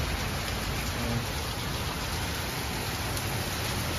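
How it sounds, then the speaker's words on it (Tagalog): Heavy rain pouring down in a steady, dense roar of drops hitting surfaces, loud and continuous with no break. "Ito, maulan."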